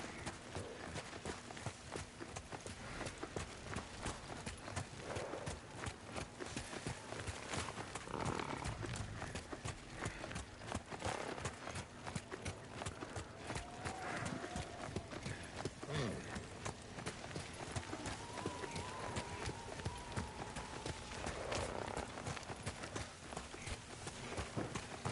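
Horse hooves clip-clop in a video game, a steady walking rhythm of hoofbeats that keeps going for about twenty-five seconds and stays fairly loud and close throughout.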